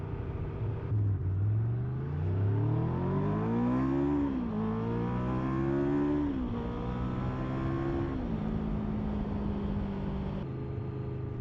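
A Honda VFR750 motorcycle rides along narrow country lanes, the engine note climbing and falling as the rider rolls on and off the throttle through several gear changes, steady and close throughout.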